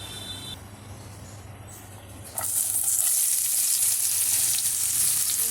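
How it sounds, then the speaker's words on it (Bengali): Bitter gourd is added to hot oil in a wok and bursts into a loud, steady sizzle that stays close and continuous. A low hum runs underneath, and no one speaks. "তেলটা একটু সেপারেট হয়ে গেলেই আমি আবার উচ্ছেটা ভাজতে দিয়ে দেবো"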